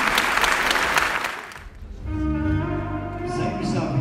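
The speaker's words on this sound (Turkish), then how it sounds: "Kocaman alkışlarınız efendim." An audience at a Turkish folk song evening in Şanlıurfa applauds loudly for a couple of seconds, then the clapping fades as sustained musical tones from the stage take over.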